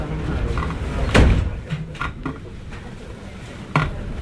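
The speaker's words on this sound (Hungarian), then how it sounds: "Kérem vigyázzanak, az ajtók záródnak." Doors of a Budapest Metro M3 train bang shut with a solid thud, followed by lighter knocks and a final clunk over the rolling hum of the carriage, with a little talk.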